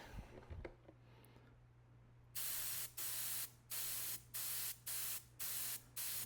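Spray paint misted in light, thin coats over a stencil on an F-16 model, heard as a series of seven short, even hissing bursts with brief pauses between them, close and loud against a quiet background.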